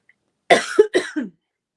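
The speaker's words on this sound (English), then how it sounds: "let me clear my throat, sorry" A few quick, harsh throat-clearing rasps in close succession, close and fairly loud, with no speech around them.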